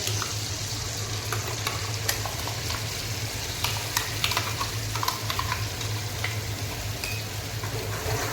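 A ground gravy paste sautés in oil with a constant close sizzle, broken by scattered clicks and scrapes of stirring against the pan over a low steady hum.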